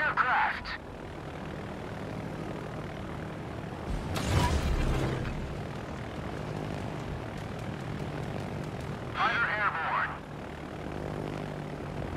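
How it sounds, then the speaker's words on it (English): Enemy aircraft attacking in World of Warships, with propeller engines droning steadily and brief bursts of sharper noise near the start, middle and end, while game voices talk over it. "Enemy aircraft!"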